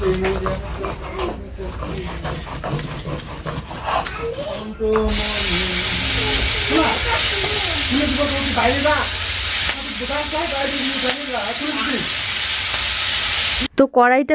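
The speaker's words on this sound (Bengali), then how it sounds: "তেলটা ভালো করে গরম করে একটু কালো জিরা ফোড়ন দিয়ে আমি দিয়ে দিলাম ব্রকলি আর তার সাথে দিয়েছি গাজর কেটে" Broccoli and chopped carrots frying in hot oil tempered with nigella seeds in a wok, a steady loud sizzle that jumps up sharply partway through as the vegetables hit the oil, with a voice speaking over it.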